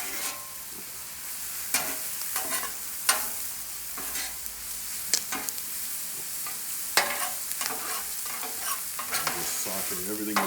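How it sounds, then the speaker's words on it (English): Mushrooms and plenty of garlic sautéing together in a pan, a loud continuous sizzle broken by repeated scraping stirs and clacks of a utensil, close and alone. "Sauteing everything together, break it down, let the flavors get mixed in together with each other."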